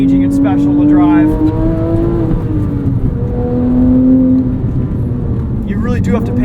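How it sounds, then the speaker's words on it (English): Porsche 911 GT3 997.1 driving on a canyon road, a loud, near engine drone with smooth rising and falling pitch sweeps as it accelerates and shifts, with a voice talking over it. "These older 911s were so engaging and special to drive."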